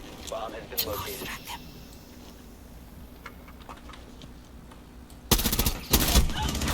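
Rainbow Six Siege gunfire: scattered sharp clicks and distant pops while a player speaks, then two loud close bursts of automatic fire near the end.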